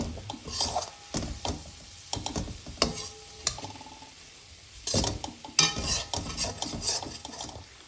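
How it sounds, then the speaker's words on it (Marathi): Spoon stirring ridge gourd with gram flour in an oiled pan, the vegetable being coated with flour; repeated scraping strokes with a soft sizzle in between, close and moderately loud, with no talking. "ढवळतो आहोत आपण पुन्हा पीठ लावतो आहोत"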